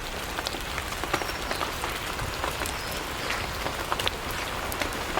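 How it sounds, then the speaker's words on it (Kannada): Heavy rain pours steadily, a dense, even hiss of drops drumming on a surface with no voices. "ಮಳೆ ಕೂಡ ಜೋರು ಬರ್ತಾ ಉಂಟು"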